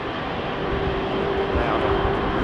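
A jet departing runway 27R at London Heathrow Airport under takeoff thrust, a steady loud broadband engine roar with a faint sustained whine, continuous throughout with no pauses.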